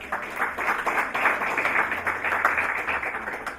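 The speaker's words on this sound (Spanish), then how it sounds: "Un fuerte aplauso para recibirla a ella." An audience gives a strong, steady round of applause to welcome a speaker at a talk on election nullities, the dense clapping sustained at an even level throughout.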